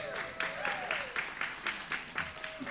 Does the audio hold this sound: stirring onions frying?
no